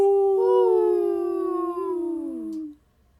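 A single long wolf howl rises, holds a wavering tone, then slides down and fades out, clear and close with no talk.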